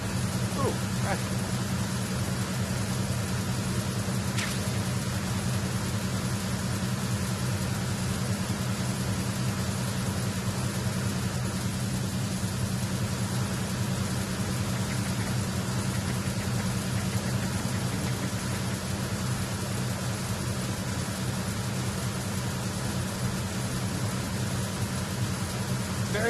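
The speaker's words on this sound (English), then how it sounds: "Very loud in the engine room of this ship." Ship engine room in Metal Gear Solid 2: a steady, loud, low mechanical drone that hums on without pause for the whole stretch, with faint occasional clanks over it.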